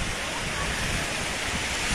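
Sea waves wash onto Bou Qana beach in Nador, Morocco, a steady broadband roar of surf mixed with wind buffeting the microphone, continuous and fairly loud throughout.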